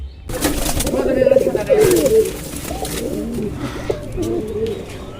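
A white pigeon with a dark tail, a stray visitor on a rooftop loft, coos in low repeated murmurs, fairly close and steady, with other bird sounds mixed around it.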